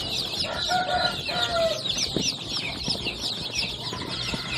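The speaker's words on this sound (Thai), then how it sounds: "วันนี้ผมก็จะพามาดูลูกไก่บ้านนะครับ" Over a hundred three-day-old domestic chicks in a brooder cage peep continuously in a high-pitched chorus, close by and busy, with faint shuffling underneath.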